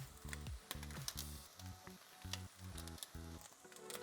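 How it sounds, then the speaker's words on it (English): Bacon sizzles and spits in a hot frying pan, a faint, steady crackle broken by repeated scraping and tapping bursts as the strips are turned, with no talking. "let's go ahead and flip our bacon some more"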